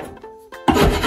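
Paint chips being scraped off a drywall surface around a patched hole: short scratchy rasps with a brief pause, then a louder, sustained scraping stroke close up, with no talk.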